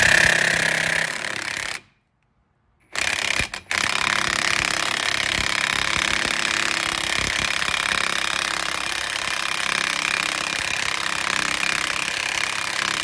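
A Ridgid impact wrench with an impact socket hammers at a rusted axle nut after heat was applied, a loud, steady rattling burst that stops briefly, stutters, then runs on continuously up close.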